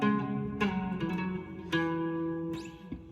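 Closing lick of a guitar solo: a few clean, ringing electric guitar notes with a slide, played close and alone, each note sustaining into the next over about three seconds.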